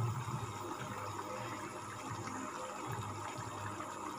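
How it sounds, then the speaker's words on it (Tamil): Water is poured into a pan of pepper chicken gravy, a steady, continuous splashing and filling sound that runs unbroken and fairly close, with no talking over it. "இப்போ நம்ம இதை தண்ணி நான் வேணுங்கிற அளவுக்கு ஆட் பண்ணிட்டேன்."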